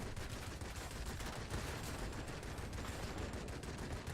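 Rear gunner's machine gun on an Ilyushin IL-40 attack plane in World of Warplanes, firing as a steady, dense rattle of rapid shots that runs unbroken and loud for the whole stretch.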